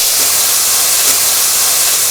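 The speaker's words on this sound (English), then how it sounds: "I'm going to put these pork cutlets in there." Pork cutlets for a Korean-style pork dish sizzle in a hot pan, a loud, steady, bright hiss that fills the whole moment with no pauses.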